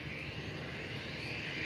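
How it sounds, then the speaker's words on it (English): Aer Lingus Airbus A330 arriving from Dublin at Faro Airport, a steady broadband jet engine roar, faint and distant, continuous over a short stretch with no talk. "So that's the Aer Lingus A330"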